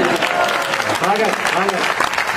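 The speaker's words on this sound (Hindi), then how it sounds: "ताली बजाओ जोर से।" An audience at a Hindi kavi sammelan poetry gathering claps loudly and steadily, a dense close applause with faint voices mixed in beneath.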